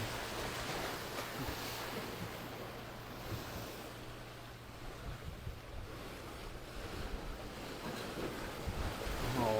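Ocean waves wash and surge against a rocky shore at Bang Saen, Thailand, in a continuous roar, with gusts of wind buffeting the microphone.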